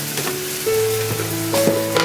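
Onion, coconut, ginger and garlic masala sautéing with salt in a pan for anda masala, with a continuous close sizzle, clinks and scrapes of a spatula, and a few brief tonal whines.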